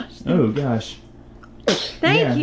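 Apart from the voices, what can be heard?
person sneezing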